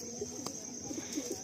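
Pigeons coo softly in a loft, giving a few low, rounded calls close by in a quiet room with faint background noise.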